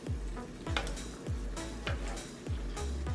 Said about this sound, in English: I'm just going to give it a nice butter bath